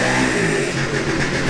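A Yamaha YZ250F two-stroke dirt bike engine bogs while still cold, a close, steady, loud mid-pitched drone with a slight wavering roughness and no talk over it.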